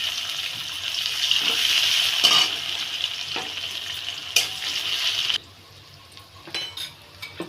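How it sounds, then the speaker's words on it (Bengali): Steady sizzling of chopped onion and tomato frying in oil, with a few clinks of a utensil against the pan before the sizzle drops to a quieter hiss. "পেঁয়াজ টমেটো ভাজা হয়ে গেছে"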